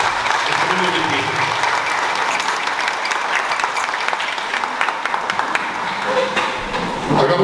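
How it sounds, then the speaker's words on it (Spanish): Congregation applauding a girl's fifteenth birthday celebration in a church in San Fernando, Tamaulipas, dense continuous clapping at close range with a faint tone and voices mixed underneath. "Vamos a dar un fuerte aplauso a nuestra hermanita en este día."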